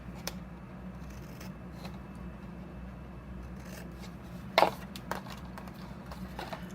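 Scissors cut through paper for a painted Christmas box craft, giving a few short, crisp snips close by over a quiet room hum.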